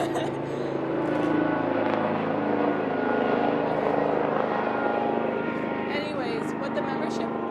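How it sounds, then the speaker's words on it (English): Propeller airplane flying overhead during an outdoor event, a steady droning engine roar that swells and lingers across the whole stretch, fairly loud and continuous. "I'll let the airplane fly."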